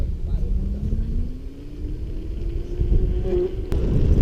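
A homemade minibike built from a hoverboard hums along on a test ride, its electric motor whine rising steadily in pitch over a constant low rumble of wheels and wind, loud and close throughout.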